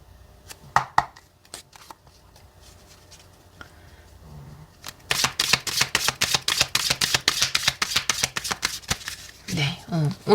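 Tarot cards are handled with a few soft taps, then shuffled in a fast, rhythmic series of crisp riffles and slaps, close up, with a voice speaking near the end.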